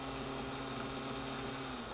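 DC motor of a Celestron CGEM telescope mount running at speed, a faint steady hum with a constant tone and no variation, alone without speech.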